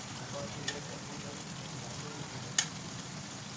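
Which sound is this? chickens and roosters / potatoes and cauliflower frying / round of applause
potatoes and cauliflower frying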